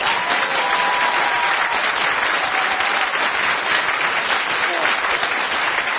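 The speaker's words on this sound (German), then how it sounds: "Klatschen." A comedy club audience at the NightWash show claps loudly and continuously, a thick, even wash of applause with no break.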